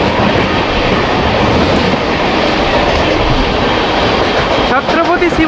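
The Howrah–Darbhanga Express running on rails, with a loud, continuous rumble and rhythmic clickety-clack of wheels over track joints, heard close from inside the moving train.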